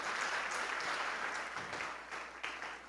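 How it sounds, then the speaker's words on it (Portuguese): Church congregation applauding during a worship service, a continuous wash of hand clapping filling the room, moderately distant and even, with no clear talk over it. "Você pode aplaudir ao Senhor, você pode glorificar a Ele, aplauda agora, inclusive."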